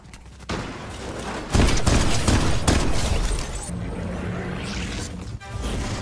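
Bursts of rapid Fortnite gunfire with sharp cracks and booms, loud and close, followed by a quieter stretch with a low hum.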